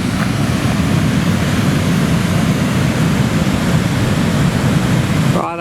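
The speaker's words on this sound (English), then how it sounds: "Alright, a lot of water coming out of there." A heavy flow of water released from a dam roars downstream, loud, close and constant like a broad hiss of rushing whitewater, ending with a brief faint voice at the very end.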